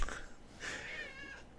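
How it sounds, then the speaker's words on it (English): A pet cat meows indoors, a drawn-out, wavering call that rises and holds, close and fairly loud, with breathy room noise around it. "Get along, cat. Get along."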